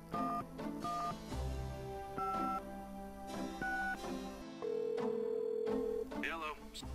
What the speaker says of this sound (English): Allora, facciamo sto numero.